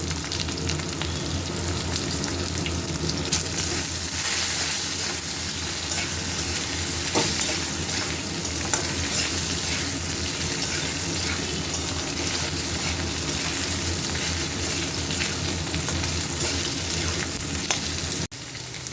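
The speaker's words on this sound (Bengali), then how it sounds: "আলু আর গাঠি কচু ভালোভাবে ভাজা হয়ে গেছে" Potatoes and gathi kochu taro, dusted with a little turmeric, fry vigorously in oil with a steady close hiss, while a utensil scrapes and stirs through the pan now and then.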